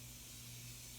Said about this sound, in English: Let's just spray.